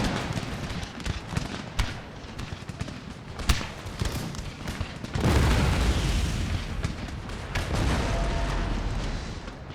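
Heavy booming cannon fire and battle explosions rumble through a noisy Empire: Total War battle soundscape, with sharp blasts early on and a sustained loud roar later.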